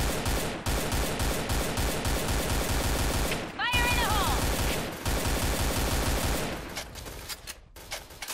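AK-47 rifle fire in the Point Blank video game, loud rapid bursts of controlled shots repeating steadily for several seconds with brief gaps, a ringing chirp midway and the firing thinning out near the end.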